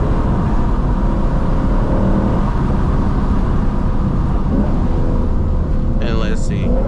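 A Lexus RC F engine drones loudly and steadily from inside the car while it is driven hard through corners, with a brief higher whine near the end.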